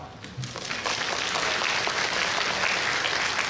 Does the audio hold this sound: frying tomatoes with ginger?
no